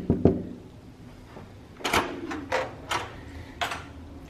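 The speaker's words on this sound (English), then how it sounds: "There's our door unlock that you can use your cell phone or magic band for." A hotel room door at Coronado Springs Resort's Gran Destino Tower is unlocked with a cell phone or MagicBand, giving a sharp electronic click and then several brief mechanical clacks of the latch, fairly close and moderately loud in a quiet room.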